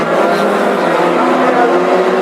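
A Ford Anglia race car engine drones at high revs, around 6,000 rpm, loud and sustained, with a steady buzzing tone throughout during a classic hot rod race.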